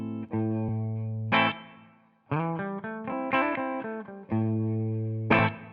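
Electric guitar through a Two-Rock tube amp with a mildly overdriven tone, cleaned up by rolling back the guitar volume: sustained chords, a short pause, then a run of picked chord changes, played alone.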